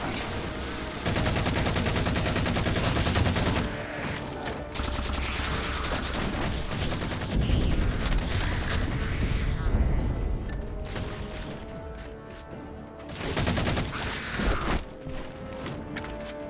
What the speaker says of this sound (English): These guns have an alternate fire.